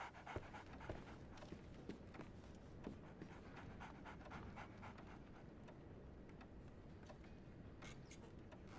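A dog panting in the video game Sherlock Holmes: The Awakened, a quick steady rhythm of breathy huffs, faint and close, over a low ambient background with no speech.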